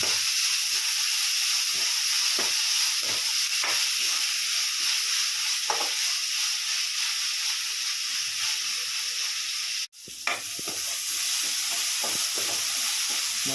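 Tomato pieces and salt are stirred in a hot pan for mutton bone soup. A continuous sizzle and hiss runs under soft scraping stir strokes, and a brief break comes near the end before the frying resumes.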